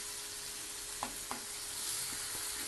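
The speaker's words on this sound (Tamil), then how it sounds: "வெங்காயம் நல்லா வதங்கின பிறகு இப்போ தக்காளி போட்டிருக்கோம்" Chopped tomatoes and onions sauté in a pan as pasta sauce starts, a soft, steady sizzle with a couple of faint scrapes from stirring.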